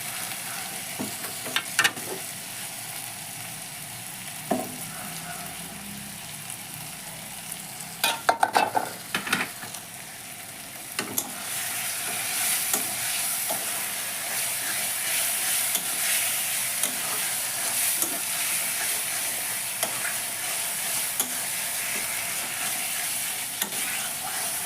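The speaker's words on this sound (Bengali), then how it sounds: "এবার আমি চিংড়ি মাছটা দিয়ে দিলাম। চিংড়ি মাছটা দিয়ে আর একটু কষে নেব।" Prawns fry and get stirred through spice paste for a yogurt prawn curry, a steady close sizzle with scattered utensil scrapes and knocks early on, the frying growing louder and brighter about halfway through and holding to the end.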